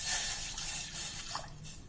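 Water pours steadily into a pot set on a gas flame for making tea, a continuous close splashing and hissing with no speech.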